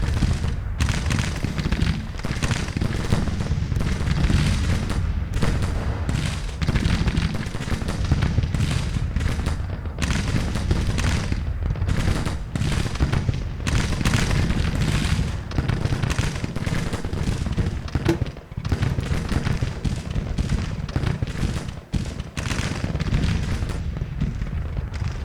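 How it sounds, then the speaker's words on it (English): Civil War artillery batteries fire in a Grand Tactician: Civil War battle: a dense, continuous barrage of booms and crackling reports, loud and sustained, with overlapping shots and no break. "this artillery over here is shooting okay after all"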